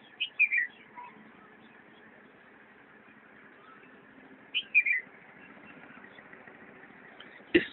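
Morning birds chirp in short, sparse bursts of two or three quick calls, separated by long stretches of quiet ambient hum, with a faint low steady background drone.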